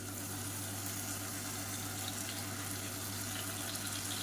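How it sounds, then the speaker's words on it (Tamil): Water running steadily into a mixer grinder jar to rinse it out while making salna, a continuous even splashing rush with a low hum underneath, no voices. "மிக்சியை அலசிட்டு அந்த தண்ணியை வந்து கொஞ்சமாக சேர்த்துக்கலாம்"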